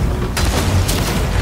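A ship's cannon fires in the pirate game Sea of Thieves: two loud, close booms about half a second apart over a rumbling low background, with no voices.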